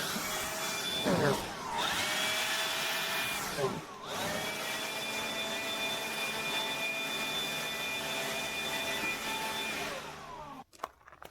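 A powered blower clears out a home garage, giving a loud continuous whine with steady tonal hum that shifts pitch a few times as it is moved around, then cuts off with a clatter near the end.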